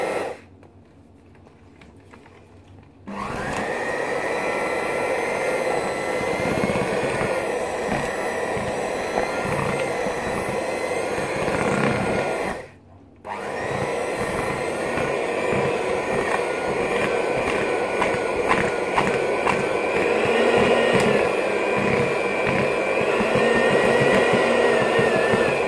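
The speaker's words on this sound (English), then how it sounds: "With the mixer running, mix it on a medium pace." An electric mixer beats brownie batter at medium speed, a loud steady close whirring drone that starts after a few quiet seconds and cuts out briefly once midway before resuming.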